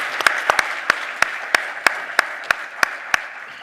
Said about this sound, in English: Let's give another round of applause to our 2022 honorees, Ray Robinson, Arnold Donald, Grant Hill